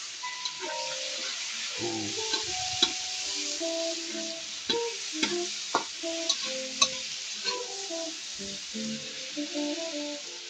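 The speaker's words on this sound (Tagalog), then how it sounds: "Kailangan pakagisa natin yung sahog niya para maalis yung lansa" Chop suey ingredients being sautéed in a pan: a steady frying hiss with repeated spatula scrapes and knocks against the pan, close and busy throughout.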